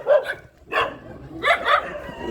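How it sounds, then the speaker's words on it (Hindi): Dogs bark in short yapping bursts, a couple of quick yips near the start, then a louder pair of barks later, fairly close by and mixed with some background voice. "कुत्ते मुझे तो मतलब भौंकने लगे थे ना"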